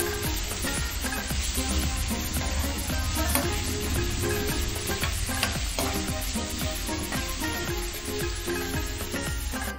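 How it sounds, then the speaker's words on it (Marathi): Chopped onion fries in a pan with a continuous loud sizzle, broken by repeated scraping and stirring knocks of a spoon against the pan, with no one speaking. "तो कांदा पण टाकते. हे व्यवस्थित भाजून द्यायचंय."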